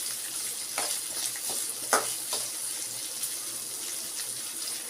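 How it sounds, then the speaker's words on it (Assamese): Continuous gentle sizzle of onions frying in a pan over medium flame, with a few scraping stirs and clinks along the way, no talking. "অতি কমেও 2 মিনিট সময় মই পিঁয়াজখিনি ভাজি ল'ম।"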